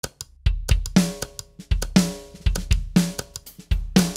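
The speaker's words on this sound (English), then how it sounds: "I have a multi-track drum loop which I will put through the input channels of my mixer" A punchy drum loop plays alone: booming kicks, sharp snare hits and ticking hi-hats in a steady, repeating groove.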